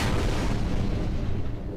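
KWK-15A 120mm cannons fire in the Space Engineers game, a continuous loud booming barrage of heavy blasts with rumbling low end, sustained for the whole stretch with no talking.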